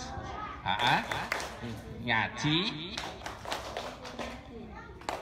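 Children at a storytelling session in Kuncen village, Madiun, clap in rhythmic bursts along with a call-and-response chant, hand claps mixed with an adult's voice and children's chanting, fairly close.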